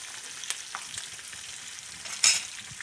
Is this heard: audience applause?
no